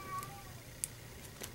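A house cat gives a faint, brief meow early on, heard indoors amid quiet room noise and a few soft clicks.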